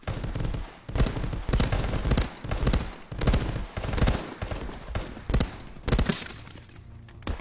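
Gunfire in the VR shooter game Contractors: repeated bursts of rapid shots, about ten loud cracks and volleys in quick succession with brief gaps between them, close and punchy.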